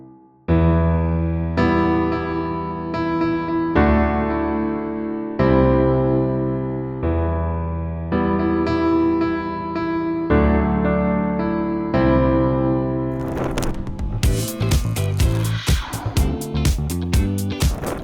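Piano plays a melody in block chords over a low octave bass, steady and sustained, ending in a busier, brighter flourish of quick notes.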